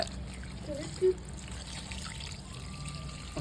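A thin trickle of water pouring quietly into a container, faint and continuous against a low background hum.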